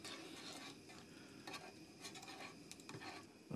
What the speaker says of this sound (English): Gonna give these a little stir.